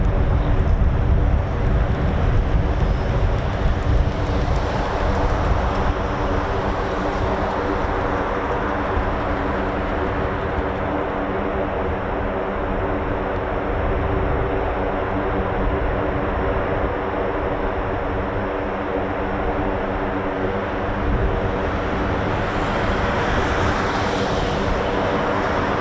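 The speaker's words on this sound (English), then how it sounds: "There is a ground run for the MC-130J, which is those engines that you can hear." An MC-130J aircraft runs its engines on the ground at an air base, a loud, steady, broadband propeller-turbine roar that holds without pause, with no talk.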